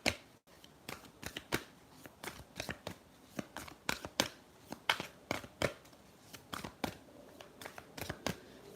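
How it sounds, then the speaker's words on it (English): Someone shuffles a deck of tarot-style reading cards, producing a rapid series of crisp riffles and slaps at an uneven rhythm, close and loud, with no talk. "I'm just shuffling the deck"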